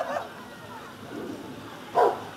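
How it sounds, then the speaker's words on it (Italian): A dog in protection training holds a decoy, letting out a couple of short, near barks or growling yelps, the loudest burst near the end, over faint background noise. "Il cane immobilizza di nuovo il figurante,"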